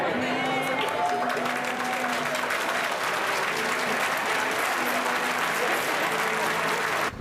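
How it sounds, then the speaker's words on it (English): A seated audience rises to its feet in sustained, dense applause for an arriving guest, loud and close throughout with a few voices and whistles mixed in. "everyone stood up and applauded him"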